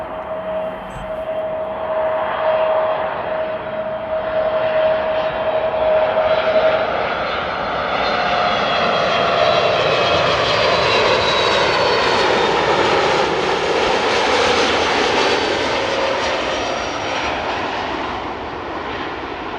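An Airbus A320neo at Amsterdam airport passes close, its jet engines building from a thin whine to a loud, sustained roar that swells and slowly fades.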